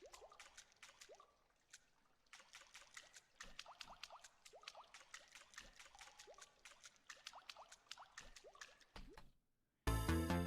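Water drips and trickles echo through the sewers in the video game Look Outside: a long run of small, quiet splashes at an irregular pace, with a louder burst of noise at the very end.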